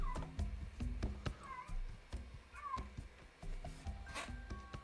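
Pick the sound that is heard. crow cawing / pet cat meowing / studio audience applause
pet cat meowing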